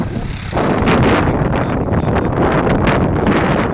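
Strong wind roars steadily across the microphone beside a bridge on a highway lined with fruit stalls, a loud buffeting rush that starts after a brief quieter moment and keeps going with gusty surges.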